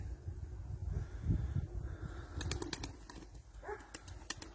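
A racing pigeon near a loft takes off with a burst of sharp wing claps, followed by fluttering flaps as it flies away, faint against a low outdoor rumble with a soft coo earlier.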